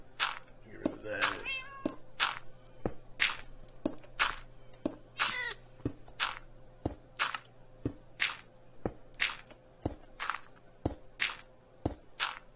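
Cat in a Minecraft modpack meowing repeatedly at roughly one-second intervals, each short game-sound meow sharp and fairly loud, punctuated by soft clicks and a faint low hum beneath.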